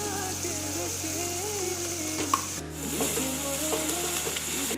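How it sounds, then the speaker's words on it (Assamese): Onions fry in oil in a wok for a dry fish chutney, a steady sizzle running throughout. Stirring scrapes join it in the second half, with a brief sharp clink of utensil on metal. "পিঁয়াজখিনি ধুনীয়াকৈ ভাজি ল'ব।"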